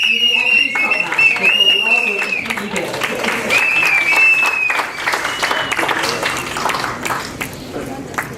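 Audience applause at a public forum marking the launch of the Centre to Combat Corruption and Cronyism, a loud, dense wash of clapping with some cheering that fades gradually over several seconds.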